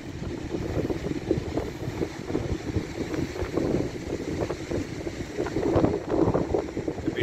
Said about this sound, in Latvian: Te bišķi lielāks vējš.